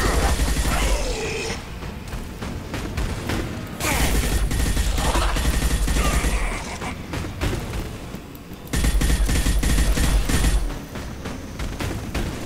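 Gunfire in the Mass Effect 2 video game comes in loud, dense bursts of rapid shots and booms, broken by short quieter gaps between volleys.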